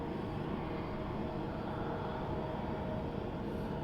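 A SkyWest Embraer regional jet takes off from runway 27 in San Diego, a steady broadband engine roar heard at moderate distance, holding even throughout with no talk.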